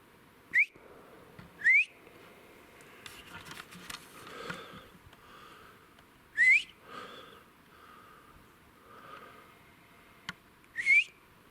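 A person whistles outdoors on a climb through a burnt forest: five short, sharp rising whistles come in loose pairs and singles, loud and close, with soft breathing and rustling between them.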